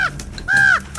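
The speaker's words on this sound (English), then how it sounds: "No, that's a crow." A crow caws twice, loud and near, each call a hoarse harmonic rasp, with a third call starting at the very end.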